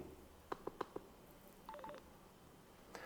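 Four quick electronic beeps from an ASMAX F1 motorcycle Bluetooth headset confirming connection, then a short rising two-tone chime, followed by a faint final blip, all quiet over low background hiss.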